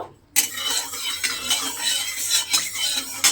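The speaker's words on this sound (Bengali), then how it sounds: "দেখুন তেলের মধ্যে আমি ডালের বড়িগুলো এখানে দিয়ে দেব" Dried lentil badi hit hot mustard oil after a moment of silence, setting off a sudden loud, crackling sizzle that carries on steadily with small pops.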